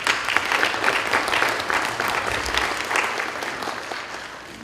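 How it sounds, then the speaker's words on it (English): Applause from an audience at a Senate study committee meeting on school safety in Chamblee, Georgia, a steady wash of many hands clapping that holds for several seconds and slowly tapers, with no talk over it. "Please give her a round of applause"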